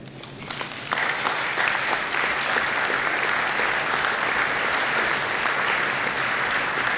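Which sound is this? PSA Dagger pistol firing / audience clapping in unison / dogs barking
audience clapping in unison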